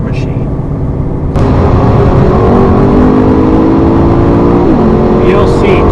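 A Lexus LC 500 engine in sport plus mode surges suddenly louder, then climbs in pitch as it revs hard. Its note dips briefly, as if at a gear change, before pulling again, close and strong.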